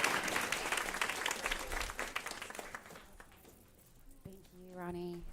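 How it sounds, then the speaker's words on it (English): An audience applauds, dense clapping for a few seconds that thins and fades, followed by a voice speaking. "Round of applause for them again."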